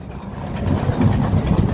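Heavy 2575-horsepower diesel railroad locomotive, recently restored and originating from Elmira, Arkansas, idling nearby with a steady deep low rumble that swells slightly partway through.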